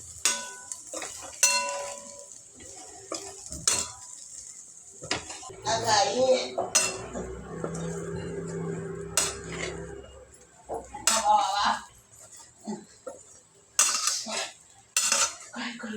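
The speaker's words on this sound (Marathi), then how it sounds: "आता व्यवस्थित मिक्स करून घेते" Bitter gourd sabzi mixed with ground peanut powder in a pan, with a spoon giving scattered clinks and scrapes against metal between quieter stretches over a low frying sizzle, close by.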